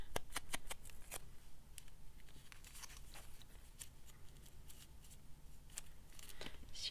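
Scissors cut paper in quick close snips, a dense run of crisp clicks and slices at irregular pace, soft and alone.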